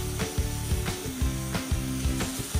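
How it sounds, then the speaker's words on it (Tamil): Ground paste sautés in a pan for a vegetarian North Indian thali, with a steady close sizzle broken by repeated rhythmic scraping strokes of a spoon against the pan. "அந்த பேஸ்ட்டு போட்டுட்டு நல்லா இதை நம்ம வதக்கி விட்டுக்கலாம்"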